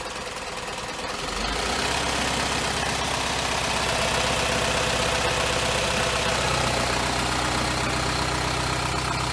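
An Isuzu diesel truck engine starts up and settles into a steady, loud idle with a knocking, chugging rumble close by.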